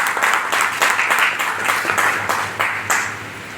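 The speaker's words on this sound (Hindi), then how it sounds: "तो सर के लिए भी जोरदार तालियां।" Enthusiastic clapping from an audience at a training session, close and lively, with individual claps and rhythmic bursts standing out against the crowd.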